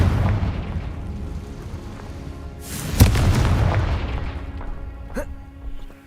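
Confringo fire spell explosion in the Hogwarts Legacy video game, a sharp booming blast at about three seconds after low rumbling, followed by a smaller burst near the end.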